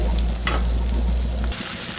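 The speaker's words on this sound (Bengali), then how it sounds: "এখন আমি এই যে সুন্দর করে ভেজে নিচ্ছি" Pieces of foli fish frying in hot oil: a dense, loud crackling sizzle close up, with a low rumble that drops away midway while the hiss carries on, no voices.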